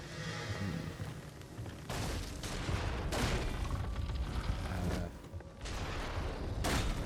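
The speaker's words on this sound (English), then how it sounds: "Who's shooting at me? There's a guy with a cannon." Cannon fire in the video game Nioh, several heavy booming blasts spaced a second or two apart, each a broad burst of noise over ongoing game sound.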